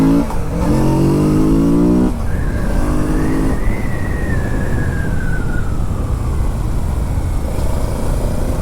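A 2022 Kawasaki Z650 RS, a retro 650cc motorcycle on its stock exhaust, rides at speed with a steady, loud engine drone and rising revs under strong wind rush, close and continuous throughout.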